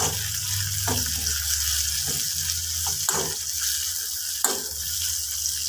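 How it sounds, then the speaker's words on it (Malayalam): Onion, tomato, green chili and curry leaves sizzle in a hot pan for a potato masala curry, a continuous close frying hiss broken by several distinct scraping stirs of a utensil. "കറിവേപ്പില ഇട്ട് കൊടുത്തു ഒന്ന് വഴറ്റി"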